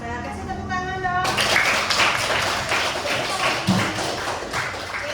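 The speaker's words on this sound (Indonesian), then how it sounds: "Kasih tepuk tangan dong." Schoolchildren in a classroom burst into a sustained round of clapping that starts abruptly after a voice speaking and fills the room with dense, lively applause for several seconds.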